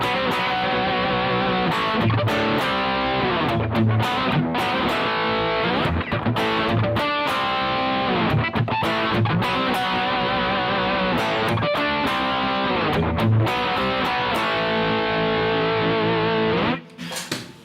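A bass runs through an Origin Effects Revival Drive overdrive pedal with the volume turned fully up, giving a loud, saturated, distorted tone. Notes are played in a continuous, busy line for about seventeen seconds, then a sustained note dies away.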